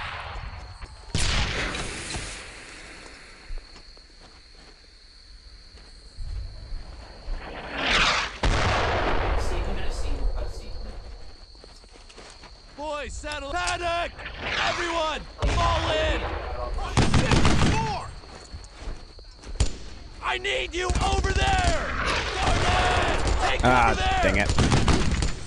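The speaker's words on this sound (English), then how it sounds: "Okay, someone's shooting something." Gunfire in the video game Brothers in Arms: Earned in Blood, with repeated bursts of rifle and machine-gun fire and booming blasts continuing almost throughout, loud and dense, with voices talking over the battle.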